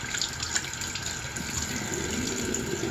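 Tap water runs steadily into a sink while a small jar is rinsed out, a continuous close hiss and splash with slight shifts as the stream hits the glass.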